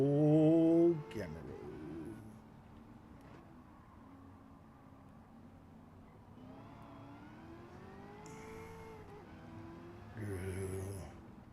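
A racing car engine in Gran Turismo 7 starts with a loud roar, then settles into a steady, moderate drone with rising and falling pitch. The engine swells again near the end.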